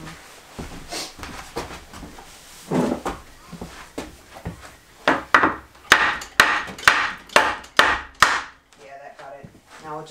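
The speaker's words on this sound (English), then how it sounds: "Let me tap it with a hammer and a block" A hammer taps on a wooden block in a mobile home remodel, scattered light knocks at first, then a steady run of sharper, louder blows close by.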